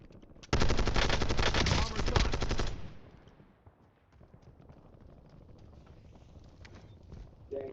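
Video game gunfire erupts as a dense, loud burst of rapid automatic shots lasting about two seconds, then fades into softer game ambience and scattered movement sounds.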